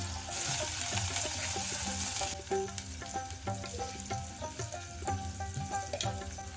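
Cumin and moong dal fry in a pan with close, steady sizzling and crackle, a brighter hiss at the start, then stirring clatter, with no voices.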